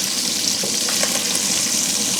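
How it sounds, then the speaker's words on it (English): Rice bubbles in a pot for Nigerian fried rice, giving a steady, close, broadband hiss and simmer that runs through the whole stretch without a break or any talk. "And we check our rice. Our rice is boiling."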